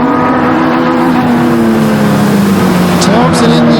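Pure stock race cars roar around Flamboro Speedway, a loud sustained engine drone with shifting pitch as cars pass, with a commentator talking over it.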